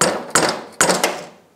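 A hammer gives a few sharp metallic taps to valve spring keepers on a Honda Rancher 350 cylinder head, two closely spaced strikes then two more, each ringing briefly and close by.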